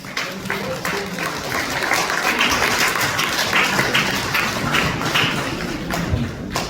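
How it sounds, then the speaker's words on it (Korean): Audience applause fills a book concert hall, steady dense clapping from a crowd that holds at an even level for several seconds, with faint voices mixed in underneath. "박수 한번 쳐주십시오"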